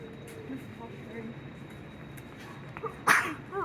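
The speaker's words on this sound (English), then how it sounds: "you always sneeze when the sun's out" A single sharp sneeze from a person in a hotel room, short and fairly close, standing out from quiet background noise.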